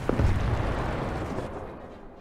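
Tank cannon fire and an explosion in War Thunder: a heavy blast opens and then rolls into a long, rumbling decay that slowly fades over two seconds.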